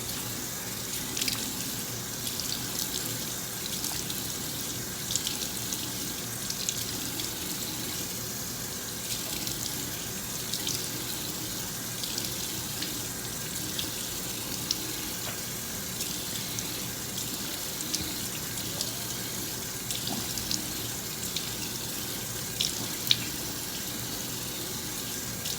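Cool tap water runs steadily from a faucet into a sink during face rinsing, a continuous soft splashing hiss with small irregular drips and spatters, fairly quiet and close, no talking.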